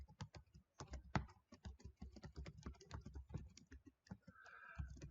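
Typing on a computer keyboard while writing console code, a quick irregular patter of crisp key clicks, close and fairly quiet, with brief pauses between bursts.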